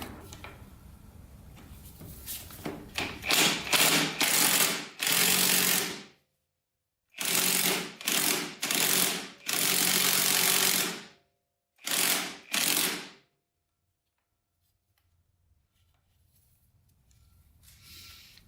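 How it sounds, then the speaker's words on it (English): Impact wrench hammering on the Allen head sprocket bolts of a Honda TRX450R quad, loud close bursts of rattling impacts in about eight short runs separated by brief pauses, then quiet. "We're gonna try to use an impact first."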